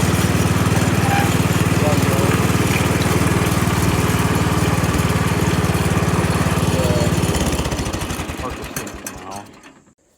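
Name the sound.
lawn mower running with new deck wheels spinning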